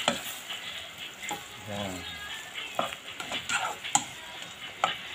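Beef cubes frying in a pan, stirred with a utensil, giving a moderate sizzle under repeated scrapes and clinks, with a brief spoken word.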